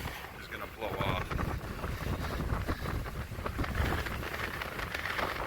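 Strong wind buffets a handheld microphone on an open beach, a continuous loud roaring rumble with gusting surges throughout, with no clear speech over it.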